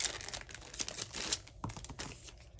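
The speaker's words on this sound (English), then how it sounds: "Let me get this kit open." A Stampin' Up Paper Pumpkin kit package is opened with close, quiet crinkling and rustling of plastic and paper in irregular bursts, no talk over it.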